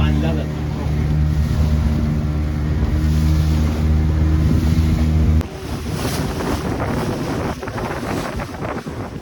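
A jetty boat motors across the Arabian Sea off the Malvan coast, its steady low engine drone loud and continuous with wind buffeting the microphone, then shifting to a rougher wash of wind and water partway through.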